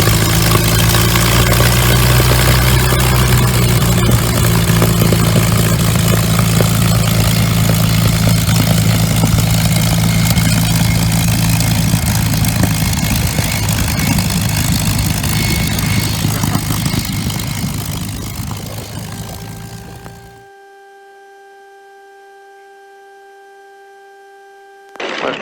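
A P-51D Mustang's propeller engine idles loudly and steadily while the fighter taxis, a dense continuous drone that fades after about twenty seconds into near silence, leaving only faint steady tones before a brief return at the end.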